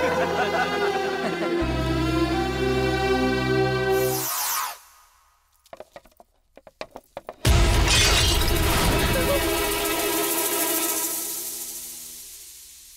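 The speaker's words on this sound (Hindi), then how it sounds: "फ्रेम टूट गया।" A picture frame falls and its glass shatters in a dramatic movie scene: a sudden crash with scattering fragments, breaking through loud dramatic music, followed by tense quiet and then a swelling musical sting.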